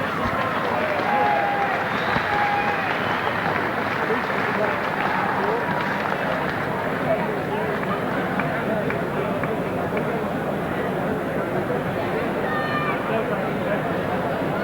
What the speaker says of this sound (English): How about a big round of applause for Sam Accuso?